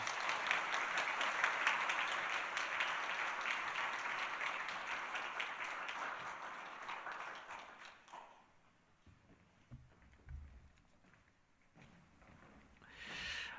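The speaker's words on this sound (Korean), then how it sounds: "우리 큰 박수로 축하하겠습니다" A church congregation in a Sunday service gives sustained, dense applause for about eight seconds, then it fades into scattered claps and quiet room noise.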